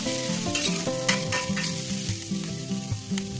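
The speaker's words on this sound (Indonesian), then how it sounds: "Panaskan minyak secukupnya, lalu tumis bawang putih dan bawang bombaynya." Chopped garlic and onion sauté in hot oil, giving a continuous loud sizzle and crackle with stirring scrapes throughout and no voices.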